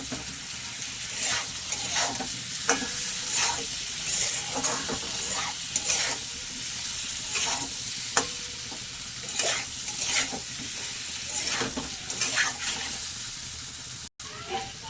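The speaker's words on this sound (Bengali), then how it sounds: "আলুটা মশলার সঙ্গে খুব ভালো করে মিশিয়ে নেব" Fried potatoes are stirred into oil-rich masala in a pan, with a spatula scraping in steady repeated strokes over a constant close sizzle and no voices.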